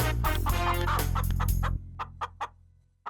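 Chickens cluck loudly and close over a low humming background for most of the stretch, then the hum cuts out and a few separate, spaced clucks follow in near silence.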